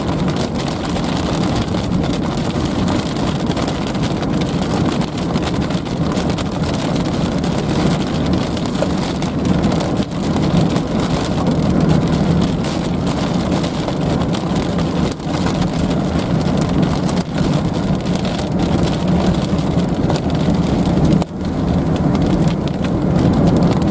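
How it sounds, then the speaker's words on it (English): Large hailstones pounding a storm-chase car during a supercell in northeast Colorado, a dense, unbroken drumming on the roof and body with sharper individual strikes, loud and close from inside the vehicle. "Oh yeah, bigger hailstones."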